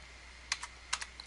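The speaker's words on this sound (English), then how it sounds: "you're just typing your grades in" A few quick keystrokes on a computer keyboard, light clicking taps in two small clusters against a quiet room.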